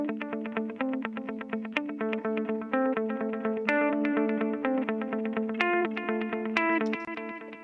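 Electric guitars with a distorted, chorused tone play a steady rhythmic pattern of repeated chords and picked notes, continuous and fairly even in loudness.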